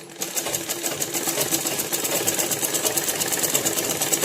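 A sewing machine stitches the back part of a blouse together with its lining, a steady, rapid mechanical whirr and needle patter running loud and close without pause, no voices.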